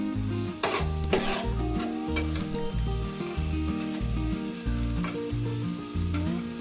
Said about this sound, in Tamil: நான் வந்து 3 முட்டை போட்டிருக்கேன்.